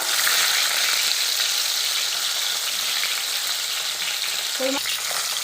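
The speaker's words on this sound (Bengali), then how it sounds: "তেলটা গরম হয়ে গেছে, এবার মাছগুলো দিয়ে দেবো।" Fish dusted with turmeric sizzle loudly in hot white cooking oil, a steady dense frying hiss that runs unbroken, with a brief clink of utensils near the end and no talking.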